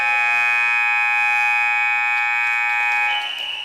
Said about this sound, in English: the ball will be dropped in, the buzzer will sound